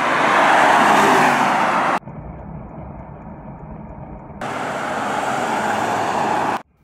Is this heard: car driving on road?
yes